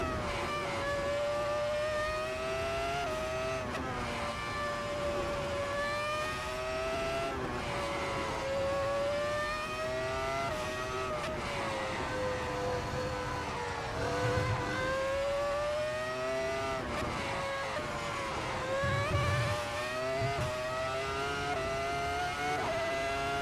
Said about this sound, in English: This car sounds so angry.